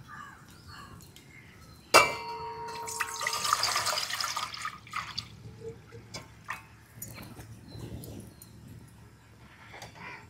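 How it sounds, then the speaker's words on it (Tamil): Water poured from a tap into a cooking pot for boiling eggs in a home kitchen, a sudden splash at the start followed by several seconds of running, trickling water that gradually thins out. "தண்ணியை ஊற்றுருவோம்."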